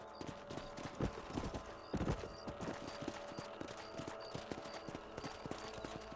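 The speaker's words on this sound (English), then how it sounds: "Let's get back on the horses and see what else is going on." Horses in the Red Dead Redemption video game, with steady clip-clopping hooves at a rapid rhythm and an occasional whinny, moderately close over a soft musical background.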